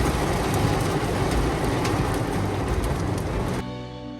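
Heavy pouring rain mixed with hail drums hard and continuously in Brunswick, Georgia, a loud dense roar with scattered sharper hits, cutting off abruptly near the end to leave a quieter hum.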